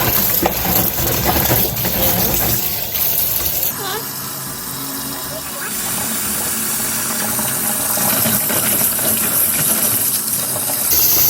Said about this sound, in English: I'm gonna get my sorrel washed.